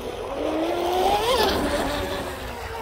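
Brushless RC boat fitted with a small-block Blackjack 24 motor running on water, giving a loud, steady electric whine that rises briefly in pitch mid-clip before settling, with no voices.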